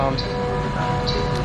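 The train from Geneva stands at Venice station with a steady rumbling hum of rail machinery, a continuous mechanical drone with faint higher whines over it.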